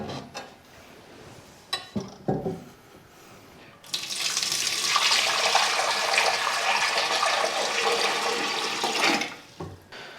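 A newly installed toilet flushing: a few knocks and clunks, then a loud, close rush of water lasting about five seconds before it tapers off.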